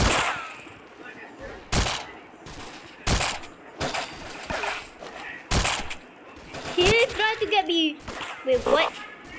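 Sharp, loud gunshots ring out one at a time at irregular intervals in a Roblox shooting game, with a voice speaking between and around the shots.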